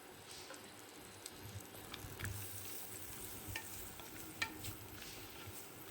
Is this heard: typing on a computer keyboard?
no